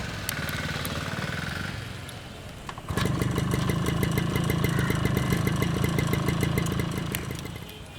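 A repaired vehicle engine runs steadily at idle, then a firmer, rougher chugging starts partway through and keeps going with a rapid rhythmic pulse, fairly loud and close.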